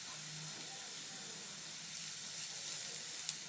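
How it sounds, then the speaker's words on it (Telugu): Onions and crushed garlic sizzle steadily in a hot pan for a mushroom curry, a continuous close frying hiss with no other sounds. "వెల్లుల్లి పచ్చివాసన పోయేంత వరకు ఫ్రై చేసుకోవాలి"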